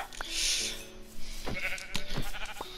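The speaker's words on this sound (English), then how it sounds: "Ooh, another sheep too?" Sheep bleat in the Minecraft video game, several short wavering calls close by over soft in-game background sounds.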